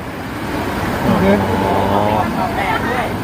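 A Toyota Hilux Revo pickup engine runs with a steady roar after Liqui Moly fuel injector cleaner is added, its pitch climbing as it revs, while someone talks over it.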